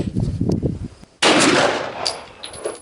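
A single 9mm shot from a Glock 34 pistol cracks out loud and sharp, then decays into a short echo. Soft handling noises come just before the blast.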